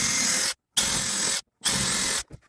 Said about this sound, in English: So first we've got to pre-drill our holes.